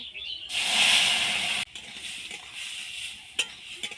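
Poppy seed and dried chili paste mixed with water hits a pan of bitter gourd with a loud, close hiss and sizzle that drops off after about a second, then settles into lower frying with a couple of sharp clinks.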